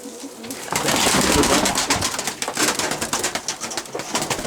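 Pigeons coo in soft, repeated low calls close by, layered over fluttering and shuffling noises, as they are startled by a black plastic bag placed at the door.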